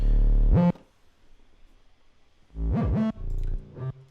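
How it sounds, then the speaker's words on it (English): Deep 808 bass notes with pitch slides, in two separate bursts, each followed by a short reverberant tail; no voices. "just adding a bit more reverb to the 808 to make it sound like a bit more spacey"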